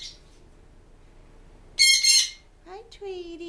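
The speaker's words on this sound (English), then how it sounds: "There's Tweety Bird." A pet bird in a bird room lets out a loud, harsh burst of squawking midway, after a brief high chirp at the start, followed by shorter calls or chatter near the end.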